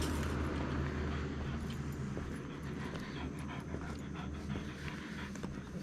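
A dog pants continuously in a garage-like setting, a rapid, breathy rhythm close to the listener over a steady low background rumble. It runs for several seconds with no talk.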